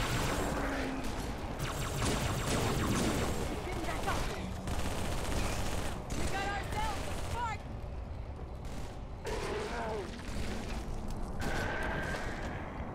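Shotgun fire from the Halo 3 video game pops in scattered bursts during a Flood battle, fairly faint and mixed under people talking over the game.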